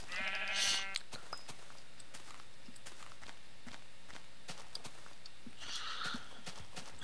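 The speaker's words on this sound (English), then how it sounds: "I don't want sheep, we want pigs or chickens." Sheep in a Minecraft-style video game bleat twice, one call at the start and another near the end, with pattering footsteps in between.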